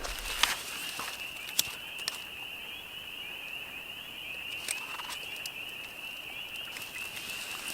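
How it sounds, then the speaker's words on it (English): Spring peeper frogs call in a steady chorus at a remote spring campsite in Temagami, a continuous high trilling wash of peeps heard from a distance, with a few soft nearby knocks and rustles. "Spring peepers are going off."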